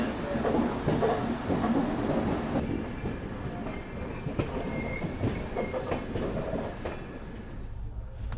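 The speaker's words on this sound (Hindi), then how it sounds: "17 मिनट की देर से हम लोग निकल रहे हैं अब इंदौर रेलवे स्टेशन से" A passenger train pulling out of Indore railway station: a steady loud rumble of rolling wheels with rhythmic clickety-clack and faint squeals and hiss, heard from on board.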